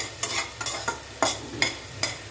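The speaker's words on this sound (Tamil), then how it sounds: "பட்டரில் தான் வதக்கி கொஞ்சோண்டு பெப்பர் தூள் சேர்த்துக்கிறேன்" Ragi butter sandwich masala sautéed in butter with a little pepper powder, heard as about six steady, rhythmic spatula strokes scraping through the pan over a faint, soft sizzle, close by and with no talking.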